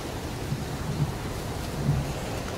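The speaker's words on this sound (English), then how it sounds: "It's pouring rain." Heavy rain pours steadily in the video game Heavy Rain, a dense, even hiss of rainfall with occasional low rumbles underneath, continuous throughout.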